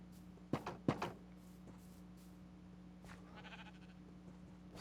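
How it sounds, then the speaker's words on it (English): Two sheep bleats from a modded Minecraft hardcore game ring out close together near the start, with quieter game noises after them over a steady low hum. "Sheep, come here."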